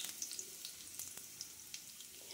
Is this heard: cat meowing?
no